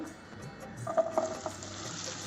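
Chopped onions frying in about three spoonfuls of hot oil in a kadhai, a steady close sizzle with a few soft stirring knocks partway through.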